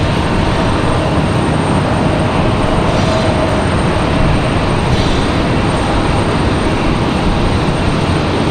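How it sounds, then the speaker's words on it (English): An Air Canada airliner departs Raleigh-Durham airport, its jet engines a steady, loud, broadband roar that holds constant throughout with no voices. "Looks like Air Canada is going to be our next departure."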